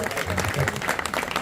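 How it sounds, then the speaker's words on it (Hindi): Applause for Rashid at a pigeon-flying prize distribution in Raebareli, a short burst of steady crowd clapping with some voices mixed in. "तो एक जोरदार तालियां हो जाए राशिद भाई के लिए।"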